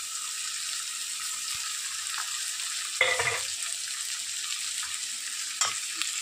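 Sliced onions and green chillies fry steadily in a pan, a soft continuous hiss with occasional faint stirring scrapes, close and moderate in level.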